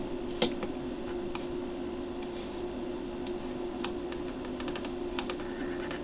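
Fingers tap out a command on a computer keyboard in a text-based online game, giving a run of light, irregular key clicks over a faint steady background hum, close and quiet, with no voices.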